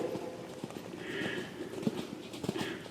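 Horses' hooves thud in a steady clip-clop rhythm during a gallop at a riding clinic on a farm, moderately close and continuous, with no clear talking.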